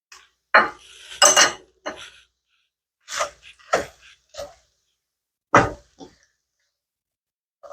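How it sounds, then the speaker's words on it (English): Onion and garlic go into a pan of cooking beef for shredded beef machaca, with a few close clattering and clinking utensil sounds in short bursts separated by quiet gaps. "So now I'm gonna put the onion and the garlic here."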